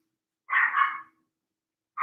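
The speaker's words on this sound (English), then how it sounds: "Just gonna let the dog in just 1 second." A dog barks twice in a quick, close burst, followed by silence and then another bark starting at the end, with no talk over it.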